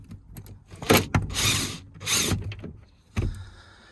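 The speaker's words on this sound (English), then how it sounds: "So handy, these little drill drivers, aren't they, for stripping stuff out" A cordless drill driver whirs in short bursts while removing screws, several quick spins with clicks and pauses between them, close up.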